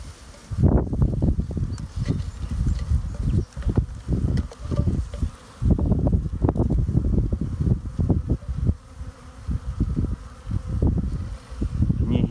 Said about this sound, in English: Can you hear the bees?